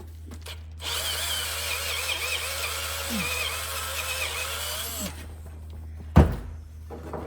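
A power drill bores slowly into the inside door latch of a 1961-66 Thunderbird, a steady whining run of about four seconds, followed by a sharp metallic knock near the end.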